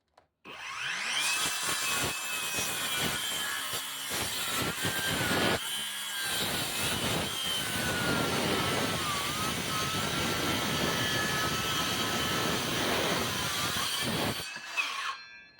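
Dnipro-M Ultra 165 mm circular saw blade making a first cut, a loud sustained whine with dense cutting noise running steadily for about fourteen seconds before spinning down.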